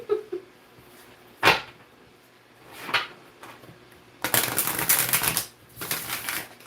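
Oracle cards riffle and snap together in bursts, with a loud buzzing cascade near the end; close by, with brief pauses between shuffles and no speech.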